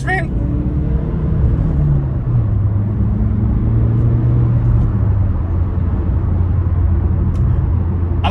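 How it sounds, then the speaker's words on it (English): A 2017 Chevrolet Cruze with a manual clutch accelerating gently from inside the cabin, engine hum rising then settling into a steady low drone under continuous talk. "let's just do a small acceleration"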